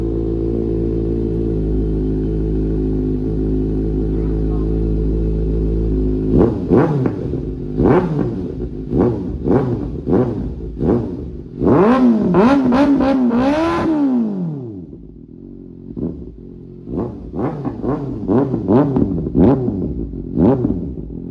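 Kawasaki ZX-6R motorcycle fitted with a new exhaust, idling steadily then revved hard in a series of sharp throttle blips and a longer high climb, loud and close, before settling into more quick revs.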